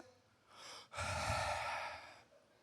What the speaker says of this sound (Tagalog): Pambihirang hikab yan.